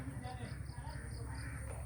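Crow caws repeat through a short outdoor stretch, fairly faint and mixed under a voice speaking to a child.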